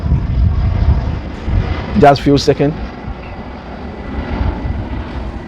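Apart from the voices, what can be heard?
airplane flying over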